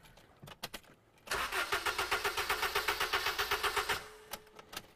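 A Honda car engine cranks after a few clicks, then catches and settles into a rhythmic mid-pitched chug before cutting off. It sounds close and loud, with no voices over it.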